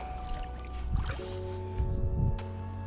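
A Savage Gear E-rider 330 kayak slides into water with soft splashes and sloshing bumps, close by over a steady low hum.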